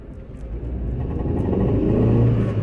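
Maruti Suzuki Eeco van running on CNG in first gear with a noisy exhaust silencer fault, giving a steady low engine rumble that builds gradually as it pulls away, close and continuous with no talking.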